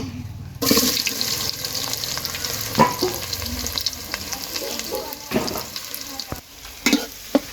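Chopped onions fry in plenty of oil on a clay stove, a steady crackling sizzle broken by stirring scrapes and clinks of the utensil against the pot.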